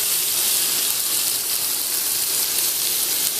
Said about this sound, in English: you're going to stick your bacon onto the pan and you'll hear it sizzle